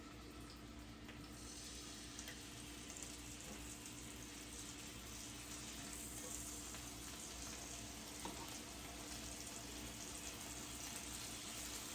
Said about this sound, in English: I hear a little sizzle going.